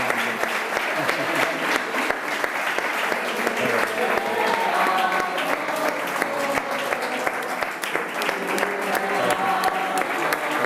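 Sustained applause from a studio audience during a Spanish television talk show, a dense steady patter of clapping that stays loud and even for about ten seconds with a faint murmur of voices mixed in.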